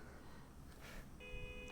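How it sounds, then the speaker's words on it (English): A beeper beeps in the video game Half-Life Alyx, sounding as a steady electronic tone near the end over a low background hum. "we're going to beep these beepers"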